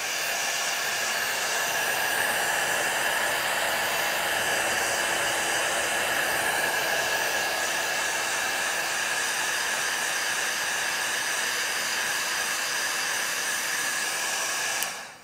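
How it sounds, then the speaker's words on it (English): A heat gun blows continuously over a collaged cool box, a loud, steady airy roar with a whining motor tone that runs unbroken until it cuts off at the end. "let me hit it with the heat gun"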